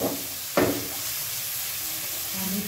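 Chopped tomatoes hitting hot masala in a pan for fish curry gravy, a sudden sharp sizzle that settles into a steady soft hiss, fairly quiet and close, with no talking.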